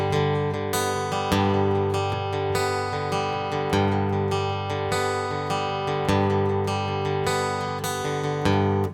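Picked acoustic guitar intro of a song, played with other instruments underneath; a steady, full strummed-and-picked pattern with rhythmic attacks continuing at even loudness for the whole stretch.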